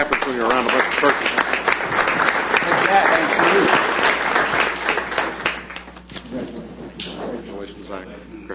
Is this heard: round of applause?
yes